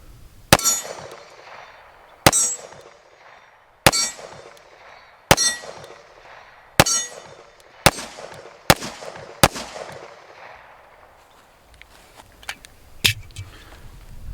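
Sharp gunshots from a Springfield Operator 1911 .45 pistol followed by metallic clangs of a struck steel target, about ten evenly spaced hits, each ringing briefly before fading.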